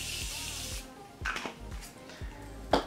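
A short hiss of Morphe Prep and Set makeup setting spray opens, followed by a few soft clicks and light taps from handling the bottle, quiet and close.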